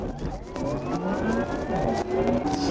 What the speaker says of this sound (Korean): 이렇게 강한 차를 제로백할 때는 휠스핀 때문에 엔진 소음은 없더라도 타이어 휠스핀이 내는 소리가 제법